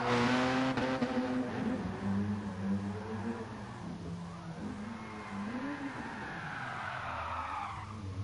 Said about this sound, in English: the car does drift very nicely